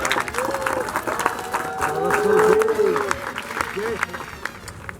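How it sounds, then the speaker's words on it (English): Applause and cheering from a group wrapping up a long shared project, mixed with excited voices and whoops over the steady clapping. "give yourselves a round of applause for all of it"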